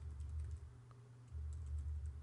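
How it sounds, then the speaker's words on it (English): Rapid keystrokes on a computer keyboard, a steady close run of soft clicks with a brief pause midway, alone without any voices. "Then hit enter on your keyboard."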